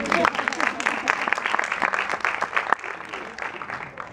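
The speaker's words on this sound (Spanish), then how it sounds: "¿Esto se merece un aplauso o no?" Audience at a university talk breaking into applause, a burst of clapping from a seated crowd that thins out over a few seconds, with a voice speaking over it.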